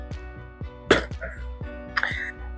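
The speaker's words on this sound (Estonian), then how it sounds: "ma võin aeg-ajalt köhida" Two sharp coughs from a person a little under the weather, close and distinct, the first near the start and the second toward the end, with quiet background music underneath.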